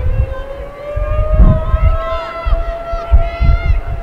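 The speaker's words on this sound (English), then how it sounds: "Some kind of siren going off here in Troy." A siren sounds in Troy during a women's soccer game, its rising, wavering tone clear and steady above crowd noise and gusty wind rumble.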